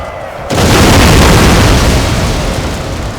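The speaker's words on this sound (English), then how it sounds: "Let's fire some grenades." Grenades explode in the Napoleon: Total War battle game, a sudden loud boom giving way to a dense, sustained roaring rumble that slowly eases off.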